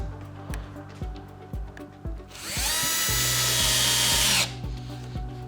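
A power drill drives screws into the corners of a Ricky display shelf (RI SH C60 18), a loud steady whir lasting about two seconds and stopping abruptly, with lighter tool clicks and handling knocks before and after.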